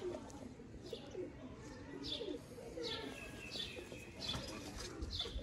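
Sialkoti flying pigeons in a breeder's loft, soft cooing and bursts of wing flapping over a steady background murmur, fairly close and moderately faint.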